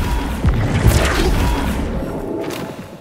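A Bombarda explosion spell goes off in Hogwarts Legacy, a deep booming thud with a whooshing burst that rumbles and slowly fades over a few seconds.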